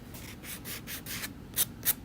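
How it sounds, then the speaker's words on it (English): A sanding block rubbed along the edges of a pumpkin carving, rhythmic scratchy strokes close up, about eight passes ending in two sharper scrapes. "I think I'm gonna do a little bit of sanding"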